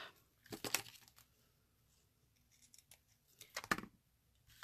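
Scissors snipping ribbon for a handmade birthday card, two brief close cuts a few seconds apart, each a short crisp rasp of blades, quiet overall with no talking.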